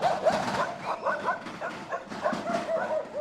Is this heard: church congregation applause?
no